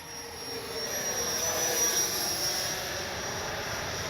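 An FMS Futura 80mm RC jet plane coming in to land, its ducted fan giving a steady, fairly loud whooshing whine with a thin high tone that swells and then levels off.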